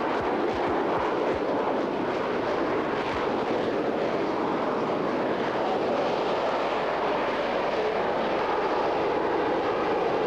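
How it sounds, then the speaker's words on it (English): A Harrier jet flies overhead above the Österreichring circuit in Austria at a 1983 Formula One race, its steady, loud jet roar filling the air continuously with no voices. "Even in Central Europe, you just can't get away from the aircraft. But don't worry, it's a Harrier"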